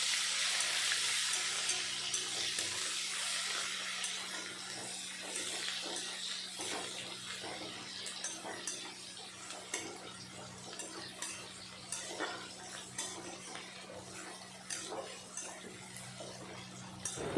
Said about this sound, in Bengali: তারপরে দিয়ে দিলাম কুচানো পেঁয়াজ। পেঁয়াজটা একটু সময় ভেজে নেব।